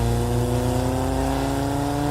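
A car engine revs hard and steadily climbs in pitch as it accelerates, loud and close, with a dense buzzing drone and no voices over it.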